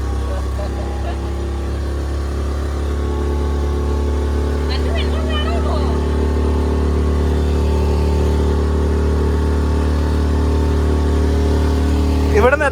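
A motor boat running on water at an adventure park gives a steady, loud low engine drone throughout, with brief voices and a few short bursts of chatter over it.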